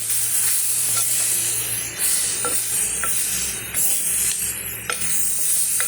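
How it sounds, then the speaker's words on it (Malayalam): Cooked lemons with their juice are stirred into a pickle in a pan, a loud continuous sizzle and hiss with repeated spoon scrapes and light clicks against the metal. "നാരങ്ങ ഇതിലേക്ക് ഇട്ട് നമുക്ക് ഇളക്കി"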